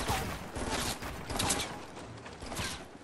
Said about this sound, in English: Where's the guy shooting me from?